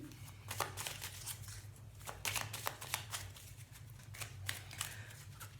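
Tarot cards laid out over two rows on a table, giving a run of soft, crisp card slaps and slides at irregular intervals, close and fairly quiet over a low steady hum.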